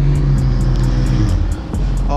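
Cars idle and rumble close by at a TX2K24 car meet at golden hour, where a GTR and a Porsche sit together, with a steady engine drone, a brief dip near the end and a repeating high ticking above it.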